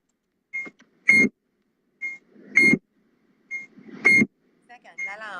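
An electronic alarm gives three short, evenly spaced beeps, each followed by a louder burst of voice as someone talks between them.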